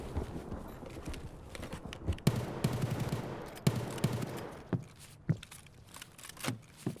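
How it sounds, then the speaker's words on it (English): Distant AK gunfire in the video game Escape from Tarkov comes as scattered bursts and single cracks. Movement noise and footsteps run underneath it. "That's an AK."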